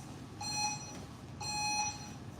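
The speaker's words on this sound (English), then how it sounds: "Third buzzer" Round timer buzzer in a Brazilian jiu-jitsu gym, two short electronic beeps about a second apart, moderately loud over steady room noise, with no talking.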